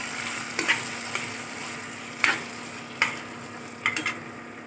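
Chicken chili with tomato sauce sizzles faintly in a pan while a utensil stirs and scrapes it in a few sharp, scattered clinks over the soft steady frying hiss.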